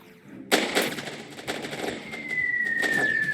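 Gunfire from the video game Wooden Battles, with a sudden loud shot followed by a rapid scattered volley and a thin rising whine carrying on beneath it.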